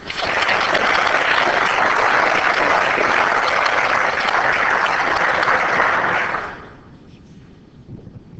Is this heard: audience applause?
yes